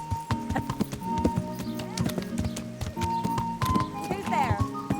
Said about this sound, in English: This is my horse, Yenda.